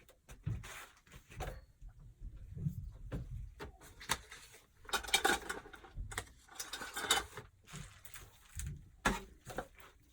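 A metal hemostat clamp, used for pulling needles through in journal making, gives scattered sharp ratchet clicks. The clicks come in short bursts, mixed with handling rustles and thumps in a quiet room.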